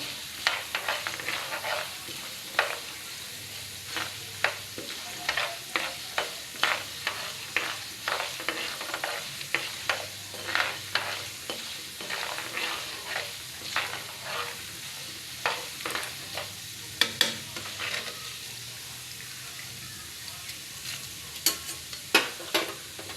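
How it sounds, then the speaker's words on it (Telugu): Ingredients for pulihora frying in a pan, a steady sizzle broken by repeated scraping stirs at an uneven rhythm, close and moderately loud with no voices. "ఇంకా కొంచెం ఫ్రై అవ్వాలి"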